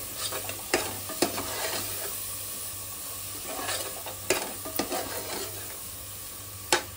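Drumstick and potato curry being stirred in a pan, with a steady low sizzle and several sharp scrapes and clinks of a utensil against the pan at irregular intervals.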